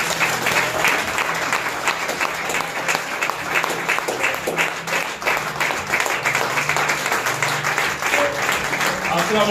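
A church congregation applauds and cheers the Lord Jesus, dense sustained clapping from many hands filling the room with voices mixed in throughout.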